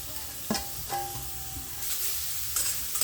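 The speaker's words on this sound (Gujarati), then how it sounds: "હવે આપણે બધું બીટ આપણે તાવડીમાં લઈ લઈશું અને આપણે શેકીશું" Grated beetroot stirred in ghee in a pan for beetroot halwa, with a soft sizzle and a few scraping strokes of the spoon, faint and close.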